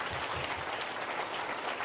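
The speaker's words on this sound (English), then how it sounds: "Clap for Jesus." A church congregation claps together in a dense, continuous burst of applause, heard from a moderate distance with no voices over it.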